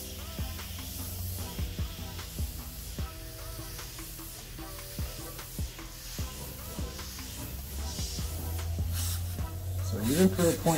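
A Grex XGi2-ES airbrush spraying paint, giving a steady soft hiss that keeps going under a man's close-up voice, with light clicks and handling noises around it.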